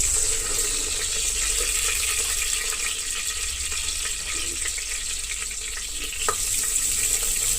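Slit green chillies frying in hot oil in a pan for a coconut dish, giving a steady, loud hiss and sizzle with crackling throughout, a brief sharper spatter near the end.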